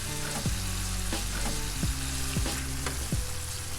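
Indomie noodles go into a hot frying pan and sizzle loudly, with several sharp knocks and scrapes of a big fork against the pan as they are added gradually.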